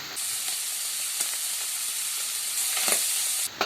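Cooked boti tripe frying with curry leaves in a pan makes a steady, close, dense sizzle that runs throughout, with a few faint stirring knocks and no talk.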